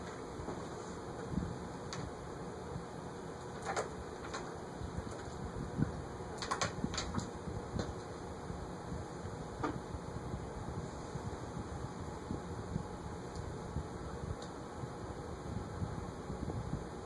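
A FASCO American Spirit ceiling fan, model 995BR in polished brass, runs at low speed with a faint, steady hum and airy whoosh. A few soft clicks break through now and then.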